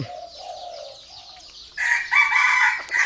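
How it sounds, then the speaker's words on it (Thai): A nearby rooster in Lom Kao, Phetchabun, Thailand gives a strong drawn-out crow after a few softer bird calls, quiet background otherwise. "ไก่เข้ามาใหม่เยอะเลยครับผม ไก่มาใหม่"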